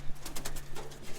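Birmingham Roller pigeons make soft cooing calls near the loft as they are let out to fly, a few short burbling coos over a steady low hum.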